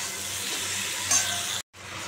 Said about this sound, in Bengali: জিরে ফোড়ন দিয়েছি